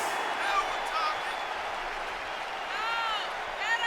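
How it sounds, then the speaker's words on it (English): A crowd at a wrestling show applauds and cheers as a wrestler walks to the ring for a steel cage match, steady clapping under a commentator's voice. "A positive response from the crowd as Jess Phillips makes her way to the ring"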